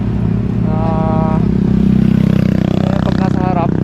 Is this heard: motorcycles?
yes